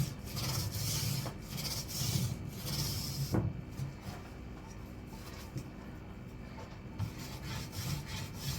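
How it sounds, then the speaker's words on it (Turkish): A thin paint brush spreads paint across wood in a baby's room being prepared, giving close, steady rubbing strokes that soften and quieten partway through. "Yok ince fırçayla yapmak lazım."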